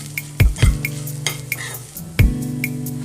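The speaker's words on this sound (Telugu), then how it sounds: "ఇప్పుడు ఒకసారి బాగా కలుపుకొని" A spoon stirring ridge gourd flower curry with garam masala in a metal pan, close and clear, with a few sharp scrapes and clinks against the pan over a faint sizzle.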